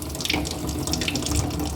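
Water running from a tap into a De'Longhi Atelier coffee machine's supplied water filter to purge trapped air, a steady close splashing stream with no talk.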